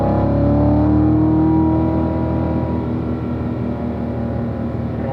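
A Corvette on a driving-school track powers out of a corner, its engine note loud and close, rising briefly before settling into a sustained strong drone.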